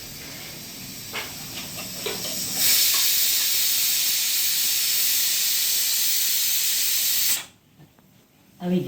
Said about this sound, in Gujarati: સૂકા મરચાં વઘાર મૂક્યો છે